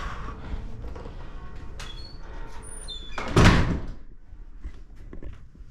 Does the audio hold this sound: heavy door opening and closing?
yes